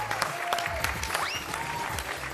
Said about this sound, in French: On va t'applaudir bien fort.